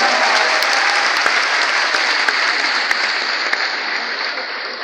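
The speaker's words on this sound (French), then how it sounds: "on applaudit maintenant" Steady, full applause fills a hall during a citizens' gathering, sustained and even throughout, with a few sharper individual claps popping out above the crowd.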